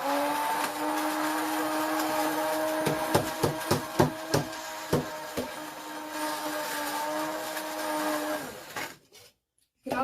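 A small electric grinder whirs as it grinds dehydrated onions into powder, with a steady motor whine, a run of sharp knocks near the middle, then a stop into silence before a brief restart.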